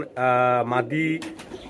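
Pigeons coo at a bird market in Chittagong, a deep, throaty warble with clear rolling harmonics, two close coos in quick succession loud in the foreground with faint background noise.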